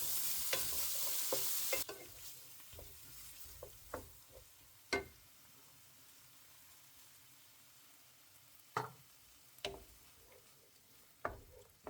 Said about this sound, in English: throw in the curry paste, saute for 3 minutes approximately